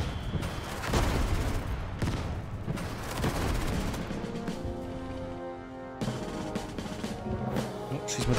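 Tank battle gunfire in the strategy game Total Tank Generals, with repeated sharp shots and bursts at uneven intervals over a steady battlefield din, mixed with some tonal background sound.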